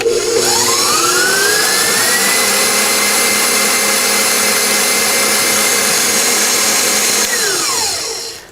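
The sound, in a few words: stand mixer whipping meringue for buttercream icing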